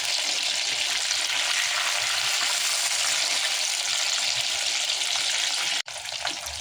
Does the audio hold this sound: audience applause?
no